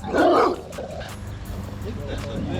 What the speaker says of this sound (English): big ass, gigantic ass dog